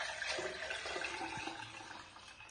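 Homemade cherry juice pours from a container into a glass, a soft continuous liquid splash and trickle that fades gradually over a couple of seconds, heard fairly quietly and close with no talk.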